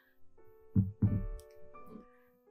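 A pounding heartbeat sound effect throbs low and muffled in a short burst of two heavy thumps followed by a softer pulse, faint and alone with no talk.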